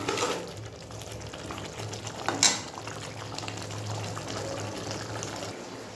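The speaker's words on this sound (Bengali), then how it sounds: "এবার এটা কষানো হোক।" Meat cooked with green chili and coriander paste sizzles and fries steadily in a pan, with a brief sharp clatter of a utensil partway through.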